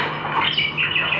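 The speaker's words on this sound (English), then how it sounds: "Look at that full yellow budgie." Budgie squawking, a short run of harsh, scratchy chirps from a single bird close by.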